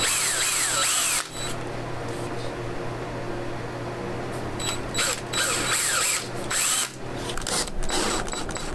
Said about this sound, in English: I'm going to drill through so that we can actually run the drywall screws directly through like we did on the other ones